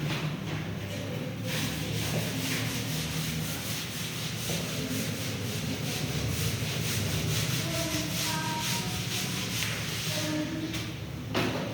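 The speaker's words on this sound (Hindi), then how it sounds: "चलिए इसको रब कर देते हैं।" Steady scrubbing of writing off a classroom board, a continuous close rubbing hiss that runs unbroken for about twelve seconds with no talking.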